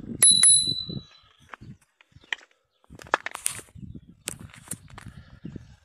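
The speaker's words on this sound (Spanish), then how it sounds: "un timbre." A handlebar bell on an Orbea MX 10 mountain bike with an aluminium bar rings twice in quick succession up close, bright metallic pings, followed by handling clicks, rattles and light tapping.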